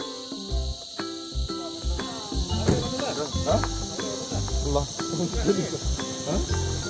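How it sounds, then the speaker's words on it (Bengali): Crickets in the hills around Sillery Gaon, East Sikkim, keep up a continuous high, shrill trill. Louder tonal sounds rise and fall over it. "আর এই ঝিঝি পোকার ডাক"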